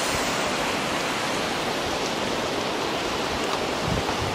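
Steady rushing water of a river below a walking suspension bridge, the Yume no Tsuribashi in Shizuoka, fills the scene, a constant broadband roar with no voices and no change in level.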